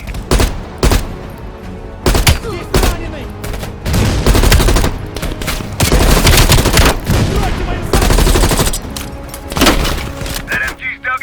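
Machine gun fire in the Call of Duty Black Ops Cold War video game rattles in loud repeated bursts with sharp cracks and thuds, mixed with game voices talking.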